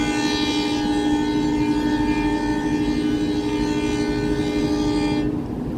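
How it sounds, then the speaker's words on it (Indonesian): A departing Ijen Ekspres passenger train's long, steady horn blares loud and close over a rumbling engine and rolling wheels, cutting off near the end. "Ya, keretanya berangkat."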